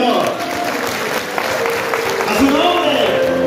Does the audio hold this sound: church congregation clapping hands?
yes